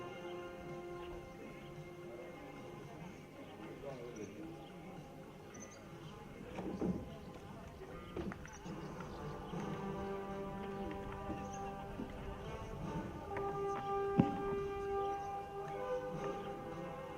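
Hooves of an Estonian riding pony at a young horses championship clip-clop steadily in a noisy arena, with crowd murmur and scattered sounds around it.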